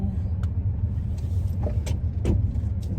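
Van with roof racks cruising on a freeway, a loud steady low road and wind roar inside the cabin with faint higher whistling bursts over it.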